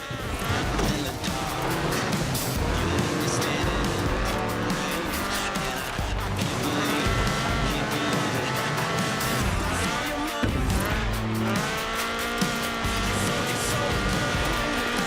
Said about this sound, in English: This was a car designed explicitly for rallying, with a powerful fuel-injected 1790cc Cosworth BDE engine.